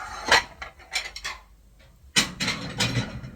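Washed dishes and cutlery clinking and clattering nearby in a kitchen, a series of sharp clanks in two clusters with a pause between.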